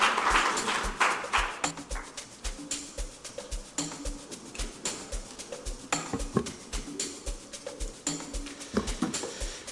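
Quiet, thin applause from an audience at a health and climate hacklab event, welcoming the UNFPA Rwanda country representative to the stage; sparse individual claps repeat steadily throughout, sounding distant and fairly soft.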